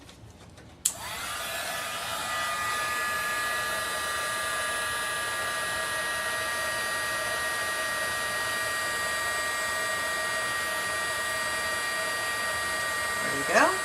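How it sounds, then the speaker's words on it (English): A heat embossing tool switches on with a sudden click and blows hot air onto a card in a steady, loud whirring hiss with a high whine, running continuously until a brief flutter at the end. "Bring in our heat tool."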